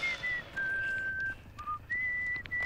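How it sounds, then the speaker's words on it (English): A character whistles in The Texas Chainsaw Massacre video game, a clear, sustained tune of long held notes with short breaks between them, close and fairly loud with no talk. "Back to whistling."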